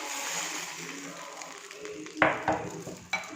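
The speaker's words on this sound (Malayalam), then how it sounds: "നമുക്കിത് കടുകയിലേക്ക് ഒഴിച്ചു കൊടുക്കാം" Mixture poured into a mustard seed and curry leaf tempering for macaroni, a low sizzle that bursts into sharp crackling splutters near the end, close by, with no speech.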